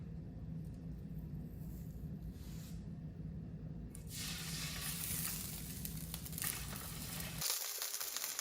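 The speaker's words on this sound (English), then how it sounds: "So I'm gonna cook this skin side down for 5 minutes or so until the skin gets crispy" Salmon fillet frying skin side down in a pan, a steady low sizzle and rumble that swells into brighter, louder crackling partway through, with no one talking.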